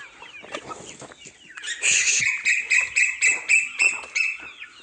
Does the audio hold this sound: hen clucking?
yes